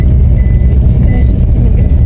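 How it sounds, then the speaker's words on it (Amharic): A car rolls into the grounds of an Orthodox church, its engine and tyre noise forming a loud, continuous low rumble that stays steady throughout. "አይ መኪና አይ ቤተክርስቲያን እየገባ ነው"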